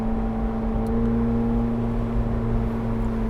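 A McLaren 750S Spider cruises with a steady, droning exhaust and engine hum, a constant resonant tone heard from inside the cabin, with no talking.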